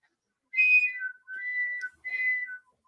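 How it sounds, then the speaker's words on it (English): A toddler blows into a cup straw, making three wavering whistles in quick succession, thin and fairly close, with no talking. "She has the straw from a cup that she figured out that if she blows into it, it whistles."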